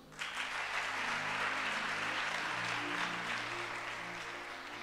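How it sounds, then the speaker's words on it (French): A church congregation applauds and cheers for Jesus during a worship service, a dense continuous wash of clapping with sustained tones beneath, moderately distant and steady throughout. "Il faut acclamer Jésus."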